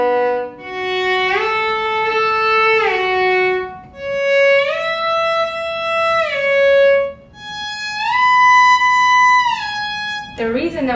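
Violin shifting exercise played with the second finger, sliding from first position up to third and back down, repeated several times; sustained bowed tones with audible glides between notes, close and clear, no talk.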